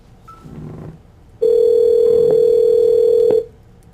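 A steady, loud telephone tone sounds for about two seconds as a call rings through to a house phone, preceded by faint background noise and ending abruptly.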